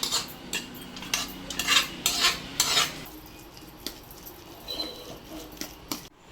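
Cooked dal being mashed and stirred for Kerala payasam, a spoon scraping and clinking against a metal pot in bursts for the first half, then softer, quieter squishing and stirring.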